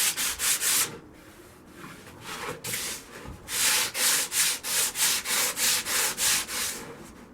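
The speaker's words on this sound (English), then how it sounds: "You just want to basically rough sand the whole thing." Rough hand sanding on a wooden shelf makes quick back-and-forth rasping strokes, a short burst of several strokes, a pause, then a long steady run of rhythmic, close, loud scrubbing.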